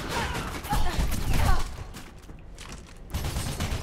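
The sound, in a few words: gunfire hitting player in Mirror's Edge video game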